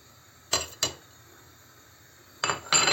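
Metal spoon stirring beans in a pot, a few brief clinks and scrapes in two pairs separated by quiet.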